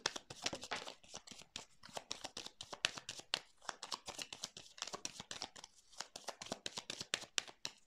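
Tarot cards being shuffled and laid out on a table, a quick, close, papery run of flicks and slaps in a steady rhythm.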